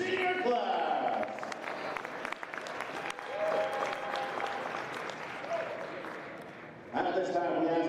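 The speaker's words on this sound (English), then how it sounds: "let's give one more thank you and a big round of applause for everyone in this 2022 senior class" Crowd applause for the 2022 senior class at a college wrestling event in an arena, sustained clapping and cheering with an announcer's voice over the top at the start and end.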